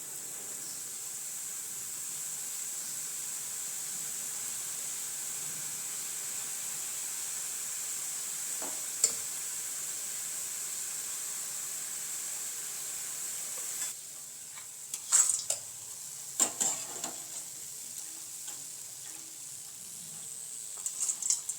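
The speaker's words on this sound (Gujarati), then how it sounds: "તો આપણું તેલ ગરમ થઈ ગયું છે. તો આપણે તેમાં સરસ બુંદી પાડી દઈશું." Boondi batter dropped into hot oil fries with a steady, even sizzle for most of the stretch, then grows quieter with a few sharp clinks and scraping touches from the spoon or pan near the end.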